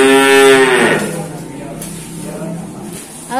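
Cattle at a livestock dealer's yard give a loud, close moo that fades out after about a second, then a quieter moo follows amid voices talking nearby.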